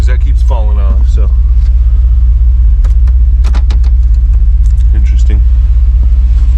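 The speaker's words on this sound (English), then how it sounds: "We're going to go take it for a drive." A car with a 4L60E transmission and Sonnax Performance Pack shift kit drives on the road, its engine a loud, steady low rumble throughout, with people talking over it inside the cabin.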